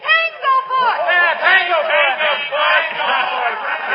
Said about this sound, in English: the crowd took it up like a battle cry